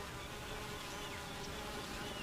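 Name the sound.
honeybees buzzing near hive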